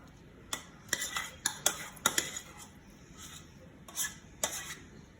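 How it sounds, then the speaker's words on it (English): Filling dumped and spread over croissants in a pan for chicken cordon bleu, with a series of sharp scraping and clinking utensil strokes against the pan, close and fairly quiet. "now I'm gonna take this and dump it right on top of my croissants"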